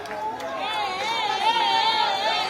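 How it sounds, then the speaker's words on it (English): Crowd noise on Benson Street during an impromptu stop by His Excellency Joseph Boakai, with a steady babble of chatter and excited voices, whistle-like calls rising over the continuous hubbub throughout. "we're a cheering crowd here"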